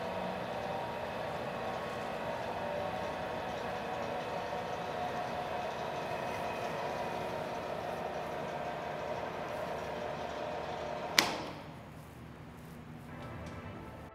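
A gearbox-driven 63-inch top-and-bottom glue spreader runs with a steady mechanical drone that suddenly cuts with a sharp clunk near the end, leaving a quieter, lower hum as the rolls slow down.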